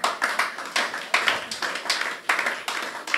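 A church congregation applauds together, a dense burst of hand claps surging in uneven waves at close range for a few seconds, with no voices over it.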